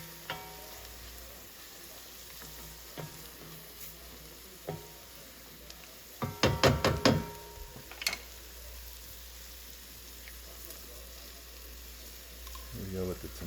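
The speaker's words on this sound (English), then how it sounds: "So keep moving those veggies around. Don't let them sit in one spot for too long." Vegetables sweat in a pot, a soft steady sizzle with scattered stirring scrapes and a louder cluster of clatter midway, fairly quiet and without talk.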